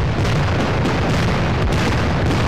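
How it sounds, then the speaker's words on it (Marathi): Fireworks burst overhead during a night-time April 14 celebration in a city, with dense, loud, continuous booming and crackling, near and alone. "फटाक्यांची निळी आतषबाजी संपूर्ण शहराचं लक्ष वेधत होती"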